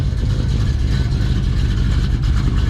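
A 1975 Chevrolet El Camino with dual exhaust idles steadily with a low, rumbling drone, close and loud, no talking.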